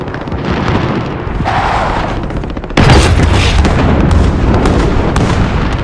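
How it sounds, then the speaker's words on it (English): Cluster strike explosions in Call of Duty: Modern Warfare boom loudly, one after another, over constant gunfire and battle noise, with a heavier blast landing partway through and the barrage rumbling on after it. "Enemy cluster strike incoming. Take cover."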